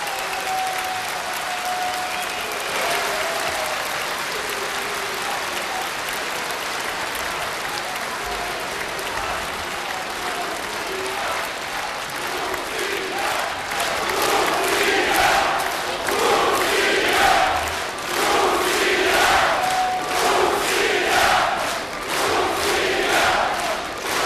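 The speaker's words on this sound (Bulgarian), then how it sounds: "Моля за аплодисменти." Sustained applause from a concert audience in Bulgaria, steady clapping from a large crowd that swells louder midway and keeps going for over twenty seconds.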